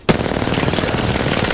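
Rapid automatic gunfire from the video game Apex Legends, a loud, dense burst of shots that starts abruptly and keeps going for over a second, close and alone with no talk.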